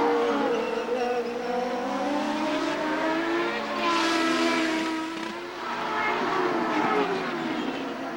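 IndyCar racing cars at Mid-Ohio in 1994 scream past at full throttle, several engine notes rising and falling in overlapping sweeps, with one car swelling louder as it passes close by, continuous with no break.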